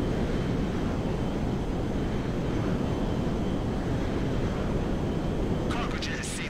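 A large cargo jet in GTA 5 roars steadily overhead as a broad, constant engine rumble over the desert, loud and unbroken throughout.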